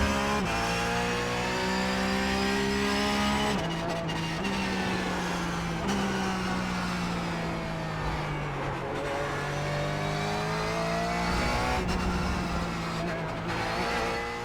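Race car engine in the iRacing sim, loud and close, revving up through the gears with repeated pitch climbs and sharp drops at each shift, with faint tyre noise under the steady roar.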